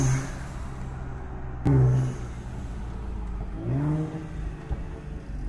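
A Ford Explorer ST with a transmission in need of repair revs its engine in a couple of short rising bursts over a steady idle rumble, heard nearby.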